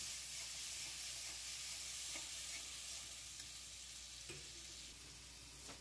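Spices with turmeric, salt and tomato paste sautéing in a pan for a prawn malai curry, a steady close sizzle with occasional stirring scrapes throughout and no talking.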